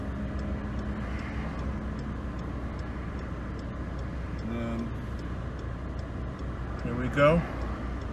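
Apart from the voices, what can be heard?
road traffic passing in Gugulethu, Cape Town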